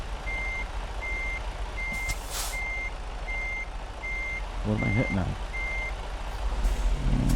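A steady series of backing-up beeps sounds from a truck in American Truck Simulator over a low engine drone, and someone briefly speaks near the end.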